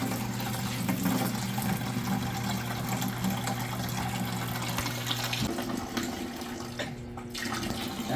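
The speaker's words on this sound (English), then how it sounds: "The moment I hit that red button, the water's going to come gushing out of there." Water gushing steadily from the air relief valve of a Pentair Big Blue pool filter, a continuous close hissing rush with a low hum underneath and a slight change midway.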